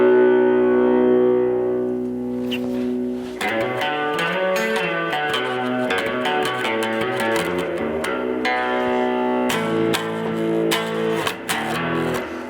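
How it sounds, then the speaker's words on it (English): An electric guitar runs through GarageBand's Stadium Spread distorted guitar preset, with a sustained chord and then a busy riff of distorted notes. It plays loud and close with heavy reverb and no talking. "it's actually in distorted guitar. It's called Stadium Spread."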